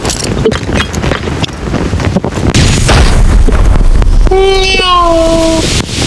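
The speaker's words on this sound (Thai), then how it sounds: "ระเบิดแรงดัน" A deep booming blast from a concussion grenade in the game Arena Breakout, a rumbling burst, followed by electronic whining tones over a noisy, busy mix.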